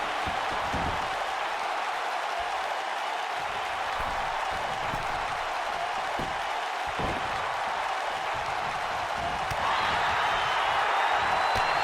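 Wrestling crowd at an indoor independent show applauding, a continuous even wash of clapping at moderate distance with scattered louder claps and a slight swell toward the end, under faint background talk.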